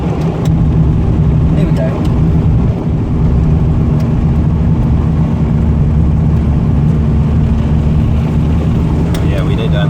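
A four-cylinder car runs on vapour fuel from a vaporising tank while driving. It gives a loud, steady engine drone close by that holds throughout, and a voice speaks briefly over it.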